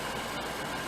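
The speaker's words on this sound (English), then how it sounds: "She's a V8 supercharged Jaguar from Coventry in England." A supercharged V8 Jaguar XKR idles close to the exhaust, giving a soft, even, low rumble that stays constant through the short stretch, with no voices.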